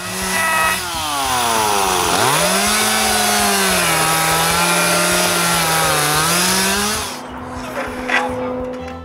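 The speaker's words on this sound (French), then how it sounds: "Je les ai tous coupés à scie à chaîne." A chainsaw cuts through the fallen walls of an old workshop, its engine loud and close, bogging down as the chain bites in, then holding a steady, labouring pitch before releasing and idling down.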